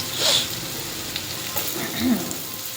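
Onions fry in hot oil with a steady, soft sizzling hiss that continues throughout, broken by a brief scrape of stirring near the start and a faint low clatter later.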